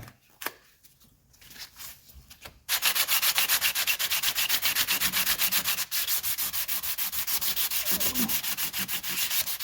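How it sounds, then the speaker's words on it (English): 320 grit sandpaper rubs across the wood center console trim of a 1985 Mercedes 300D in quick, steady back-and-forth strokes, close and continuous after a few soft touches at the start. "what we're going to do now is sand this down with some 320 just to smooth things out"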